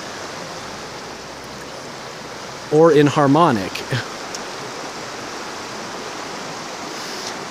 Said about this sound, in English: I'm going to leave you with some of this river's noise that's like a beautiful song.